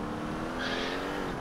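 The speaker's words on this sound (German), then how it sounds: "Alter, was macht denn das Auto schon wieder für Geräusche hier?" A car engine in the video game GTA 4 drones loudly and steadily with a broad rushing roar and a faint tire-like whine. No talking.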